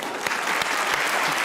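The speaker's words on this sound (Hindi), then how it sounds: "ये देखे अभी कैसी तालियां बजाई हैं।" A television studio audience claps throughout, a continuous dense applause that holds at an even loudness for the whole short stretch.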